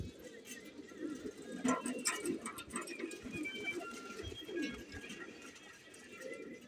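Black-and-white pigeons coo softly nearby, a low repeated cooing with occasional flutters and faint chirps, while a voice murmurs now and then in the background.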